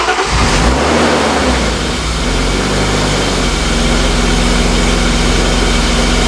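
A BMW E36 engine turns over and catches, then settles into a steady, loud idle close by after a new idle control valve is fitted, with no voices present.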